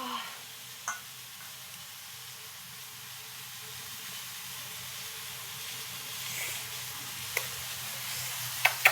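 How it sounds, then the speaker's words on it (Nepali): Eggplant frying in a pan, a soft steady sizzle and hiss close by, with a few faint clicks and taps of utensils scattered throughout. "बैगुनलाई यसरी फ्राई गर्दैछु"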